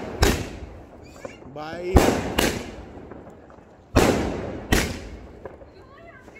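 Diwali firecrackers and fireworks explode in sharp loud bangs, several spaced through the scene with crackling between, while people talk and call out nearby.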